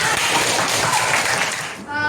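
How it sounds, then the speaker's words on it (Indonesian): A classroom of children gives a short burst of applause, loud and dense, fading near the end as a voice begins to speak. "Tepuk tangan untuk kita semua."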